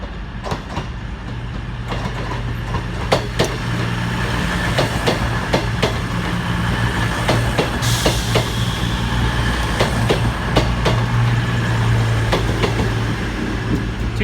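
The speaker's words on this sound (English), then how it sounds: "coming in now is a cross-country service" A CrossCountry passenger train bound for Plymouth arrives at Exeter St David's station, a steady rumble with repeated clicking of wheels over rail joints and a brake hiss, close by and continuous.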